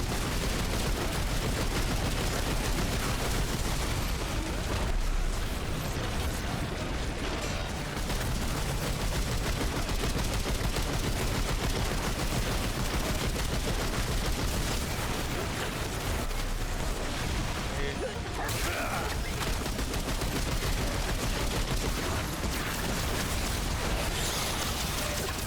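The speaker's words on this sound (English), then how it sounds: "Shoot the guy, shoot this guy right here." Dense gunfire from the video game Remnant 2 as enemies are shot, with rapid bursts of shots layered over a loud, unbroken wash of game noise that never drops out.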